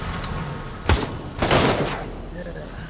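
Rapid machine-gun fire in the Pavlov VR shooter, two short loud bursts over a steady game-noise background.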